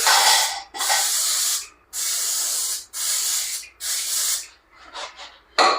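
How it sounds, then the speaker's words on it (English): Several long bursts of aerosol spray hiss loudly and close by, separated by brief pauses, followed by shorter sputtering puffs. "So we'll spray it."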